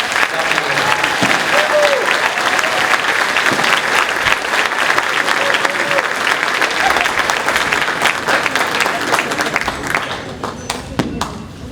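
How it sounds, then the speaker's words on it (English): A high school chorus concert audience applauds the school principal with a loud, dense wash of clapping and some crowd noise, sustained for about ten seconds before thinning out, with faint voices underneath. "Let's give a round of applause to our wonderful principal"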